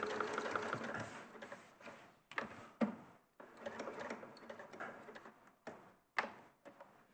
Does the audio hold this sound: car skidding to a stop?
no